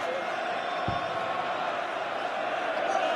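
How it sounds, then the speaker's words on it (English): A darts arena crowd in Sheffield keeps up a loud, steady roar of voices during a Premier League darts match, with a single thud near the start. "Crowd in great voice in Sheffield."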